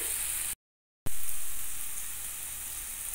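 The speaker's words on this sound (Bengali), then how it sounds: "জল দিয়ে দিলাম পরিমাণ মতন" Water poured into a hot pan of mustard, poppy seed and green chilli paste bursts into a loud sizzle after a brief silence, then settles into a steady hiss that slowly fades.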